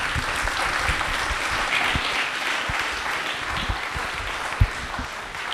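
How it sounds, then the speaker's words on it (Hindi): An audience claps after a general-knowledge quiz answer, a dense, steady wash of many hands that stays even and fairly loud with no talk over it. "क्या बात है, तालियां।"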